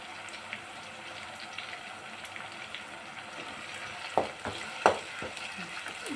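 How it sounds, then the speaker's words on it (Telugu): A paste of tomato and green chili with curry leaves fries in a pan for tomato rice. Its soft steady sizzle is broken near the end by a few sharp spoon knocks against the pan. "బాగా ఫ్రై అవ్వాలి పచ్చివాసన పోయే వరకు ఫ్రై అవ్వాలన్నమాట"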